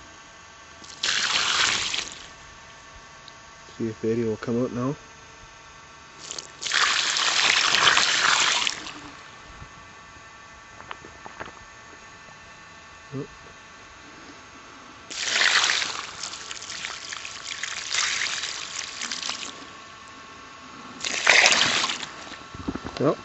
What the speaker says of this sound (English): I'm gonna start pouring some water in the hole.